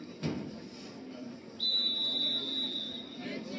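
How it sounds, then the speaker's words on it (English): A referee's whistle at a varsity high school football game sounds as one long, steady shrill blast lasting over a second, with crowd and field noise underneath and a brief thump just before. "They're blowing the whistle so the Aces can Klima."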